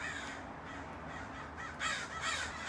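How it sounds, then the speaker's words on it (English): Crows cawing outdoors, a few harsh, fairly distant caws that repeat near the end over a low background hum. "Oh, the crows are coming."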